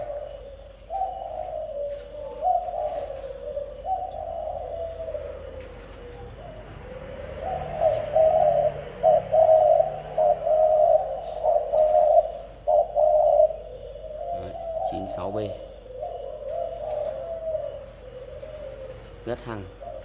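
Paired doves coo in long rolling phrases, mostly soft but growing louder in a steady run midway, close by, with a few brief sharper calls and light background noise.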